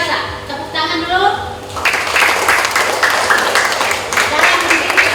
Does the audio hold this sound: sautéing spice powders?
no